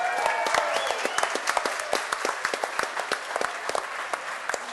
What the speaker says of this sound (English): Ladies and gentlemen, give Lynn a big round of applause for her 59th birthday tomorrow.